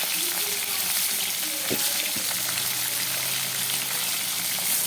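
Bhetki fish bones frying in oil in a pan for a Bengali kata chorchori, a steady broadband sizzle with a few brief clinks and scrapes.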